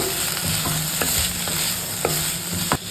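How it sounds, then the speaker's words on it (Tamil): Paneer and chopped vegetables are stirred in a pan for a salad, with a few distinct scraping strokes of the spoon over a steady, soft sizzle. "அதனால் நம்ம வந்து இதை கட் பண்ணி போட்டுக்கிடுவோம். கிண்டிடுவோம்."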